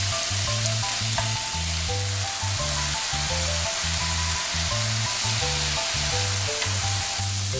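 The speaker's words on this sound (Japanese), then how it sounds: "フライパンにごま油を熱し、人参、水気を切ったレンコンを入れ火が通るまで炒めます。" Carrot and drained lotus root stir-frying in hot sesame oil in a frying pan, a continuous dense sizzle with rhythmic spatula scrapes and clinks throughout, close and even.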